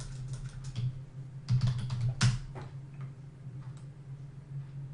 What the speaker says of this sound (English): Just give me a second here while I type up where to go on my YouTube channel.